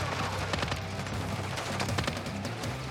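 Rapid bursts of automatic gunfire crackle in Call of Duty: Modern Warfare 3 multiplayer, dense overlapping shots near and loud, forming a sustained firefight with no talk.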